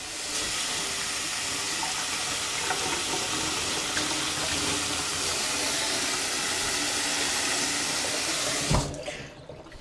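A steady stream of tap water pours loudly into a measuring cup for several seconds, then shuts off abruptly near the end.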